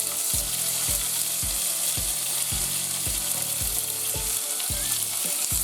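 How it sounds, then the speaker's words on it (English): Venison sizzling and searing in a hot pan, a steady loud crackle and hiss with regular soft knocks as the meat settles and is stirred. "Our pan is starting to heat up, so we're going to go ahead and get our meat in there."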